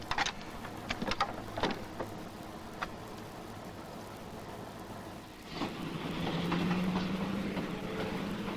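A train of the late-1950s railroad era rolls along the tracks at a distance, with a steady low rumble, a few sharp clanks and clicks early on, and a faint tonal whine toward the end.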